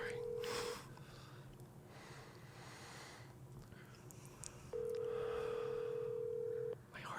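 A call placed on speakerphone to a cemetery funeral home gives a short steady tone, then a pause, then a longer steady ringing tone about two seconds long. Quiet breathing can be heard between the tones.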